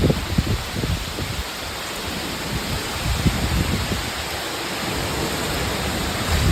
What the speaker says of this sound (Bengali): কিন্তু বৃষ্টিটা হচ্ছে।